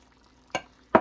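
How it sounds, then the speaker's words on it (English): Two short scraping strokes of a spoon stirring milk into maple peach cobbler batter, each a quick swish separated by a pause, close and fairly quiet. "I'm going to add some milk and stir it"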